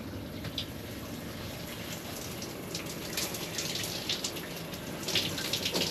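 Water runs steadily from an outdoor shower at a campsite, a continuous hiss of spray and splashing, close and even, growing slightly busier near the end.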